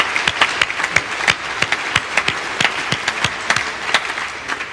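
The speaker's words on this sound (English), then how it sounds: "give her a big round of applause" A theatre audience claps continuously at the 1988 dBase IV launch in Sydney's State Theatre, dense and fairly loud applause with distinct hand claps popping out over the steady roar.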